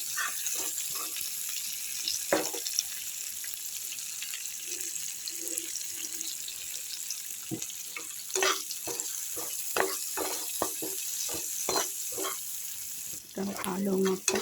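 Steady frying sizzle from morola fish being cooked with salt in a pan for a Bengali chachchari, with intermittent clinks and stirring knocks throughout.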